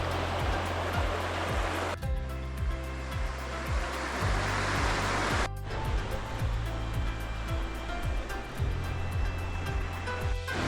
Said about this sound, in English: Next stop is a waterfall called Coron Falls